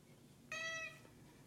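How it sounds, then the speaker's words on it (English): An indoor cat gives a single short meow, faint and slightly distant, rising briefly out of quiet room tone. "Don't mind the cat meowing"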